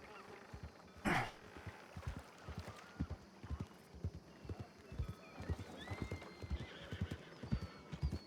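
Horse hooves clop steadily in a repeating rhythm, with a single loud whinny near the start, fairly close by.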